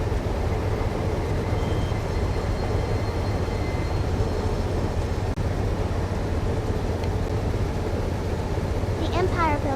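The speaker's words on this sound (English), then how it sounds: "The Empire Builder holds her speed steady right around 50 miles per hour." Video-game Empire Builder passenger train running steadily at about 50 mph, a continuous low engine and rail rumble throughout with a faint higher squeal near the end.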